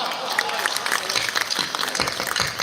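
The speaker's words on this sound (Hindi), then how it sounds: "तालियां कम थी," Audience applause at a Hindi poetry recitation, a dense wash of clapping from a crowd at steady loudness, with voices and stray shouts mixed in throughout.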